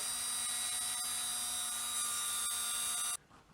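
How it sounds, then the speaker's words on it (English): A small hole is drilled into the end of a 3D printed plastic part for a Falcon 9 Dragon model rocket, giving a steady high-pitched whine from a small drill that runs continuously for about three seconds and then cuts off, with no talk. "we've got to drill a little hole in the end of here"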